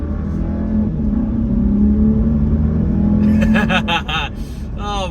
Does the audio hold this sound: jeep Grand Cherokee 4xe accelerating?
yes